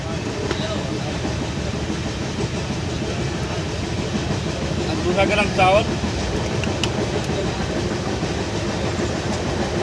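A steady rumbling rattle of a moving express train from Howrah to Vellore, heard from inside a carriage, continuous and close, with faint chatter and clanks layered over it.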